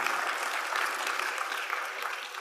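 A conference plenary audience claps steadily, a dense, even wash of applause filling the room at moderate loudness, heard alone with no voices over it.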